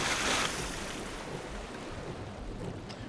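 Steady broadband wash of river water rushing in Legend of Grimrock 2, continuous and fairly close, slightly louder at the start and then even, with no talk.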